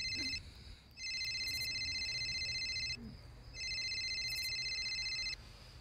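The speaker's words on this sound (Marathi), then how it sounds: "फोन आलाय." A phone ringtone rings in two electronic bursts with a short pause between them, fairly close, over a faint background hum.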